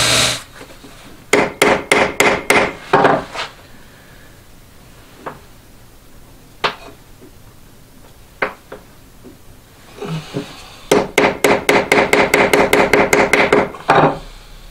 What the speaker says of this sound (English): I've been tacking on it with the hammer to get it dead straight